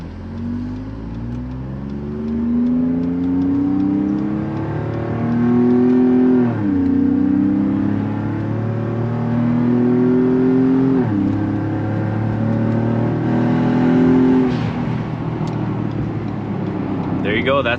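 A loud Ford Raptor V8 with valved exhaust in Baja mode revs up and down in repeated rising sweeps, with deep exhaust rumble and a faint pop near the end.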